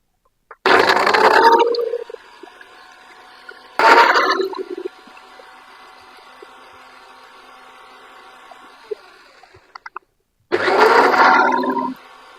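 A mixer grinder grinds dry garlic in three loud bursts, each about a second long, separated by quieter stretches of low motor hum, close by in a kitchen.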